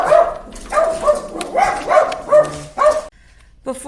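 Dogs bark loudly in a steady run of about six sharp barks, evenly spaced and close by indoors, then a brief pause before another starts.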